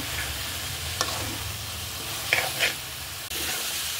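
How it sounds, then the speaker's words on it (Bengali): Mixed vegetables with jackfruit seeds sizzle in a pan while a spatula stirs them, a low steady fry with a few sharp scraping clicks, close by and without talk. "এই দেখুন আমার সবজি ভালোভাবে কষিয়ে গেছে।"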